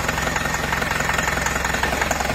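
An idling Kia Rio engine knocks with a loud, rapid, regular tapping, close up and continuous, with no talking.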